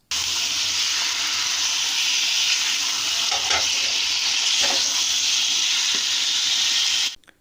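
About 1.5 kg of beef sizzles and fries steadily in a karahi for browning, a loud continuous hiss with occasional stirring scrapes, alone without talk until it cuts off near the end.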